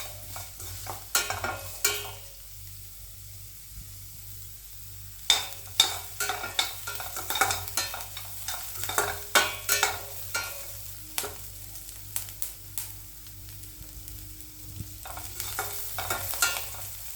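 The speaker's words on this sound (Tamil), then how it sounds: "பொடியை கட் பண்ண ஒரு வெங்காயம், கொஞ்சம் கருவேப்பிலை. இது எல்லாத்தையும் சேர்த்து நல்லா வதக்கணும்." Onion and curry leaves sautéing in a pan for an egg omelette gravy, with irregular clatters of stirring over a soft steady sizzle and several sharp scraping bursts, fairly close with no talk.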